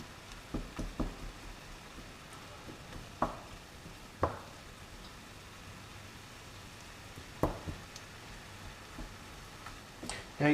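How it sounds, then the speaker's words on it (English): Ground meat frying in a pan for spaghetti bolognese, being broken up: a soft, steady sizzle with occasional sharp clacks of a utensil stirring and scraping, fairly quiet and close, with no talking. "Just fry your meat. Make sure it's just got no pink bits and break up these clumpy bits."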